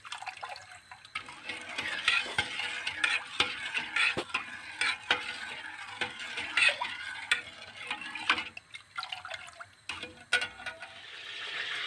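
Butter melts and sizzles in a pot while flour halva is being prepared. A soft frying hiss sits under frequent clinks and scrapes of stirring, uneven and fairly close, with no speech.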